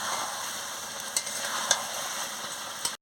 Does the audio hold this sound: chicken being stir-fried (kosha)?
yes